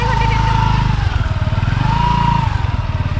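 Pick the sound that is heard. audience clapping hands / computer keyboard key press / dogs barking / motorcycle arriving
motorcycle arriving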